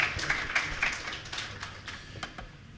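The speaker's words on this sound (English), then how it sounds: "So give yourself a round of applause." A conference audience gives itself a round of applause: faint, scattered clapping from a room of listeners, fairly distant and light, with irregular claps fading out over a few seconds.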